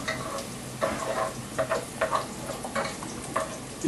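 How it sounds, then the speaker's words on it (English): Browned onions and carrot frying in a pan with steady sizzle underneath, while a spoon stirs and scrapes in quick repeated strokes, each one close and distinct. "Now you'll notice I'm stirring quite a bit now because our onions are nicely browned."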